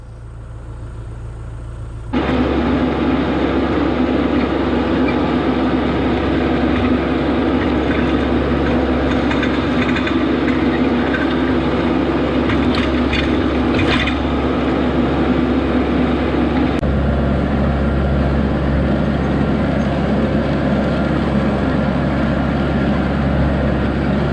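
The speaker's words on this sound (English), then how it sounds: "It's gonna be a big wide row, but I'll be able to work it with this tractor." A tractor working a wide garden row while preparing ground for a fall garden gives a loud, steady engine drone, close and continuous. The pitch shifts slightly partway through, and no voices are heard.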